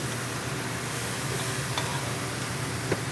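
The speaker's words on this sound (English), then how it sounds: "And all we do is stir it around, and it is done." Fresh chopped garlic sizzles steadily in a hot pan as it is stirred around, a dense, even frying hiss with a couple of faint scraping clicks.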